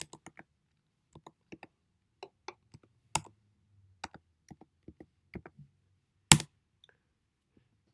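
Keys tapped on a computer keyboard in short, scattered bursts of clicks, with two louder sharp strikes, close and clear with no talking.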